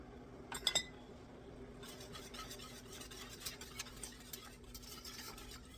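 A spoon stirs deer steak canning liquid in a pot with ranch dressing added, giving a couple of sharp clinks against the pot near the start, then soft continuous scraping and swishing with scattered light taps.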